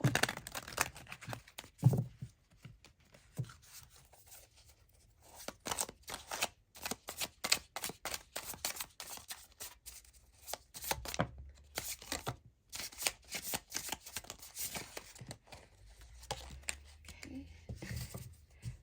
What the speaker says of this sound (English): Okay, so let's give these a shuffle.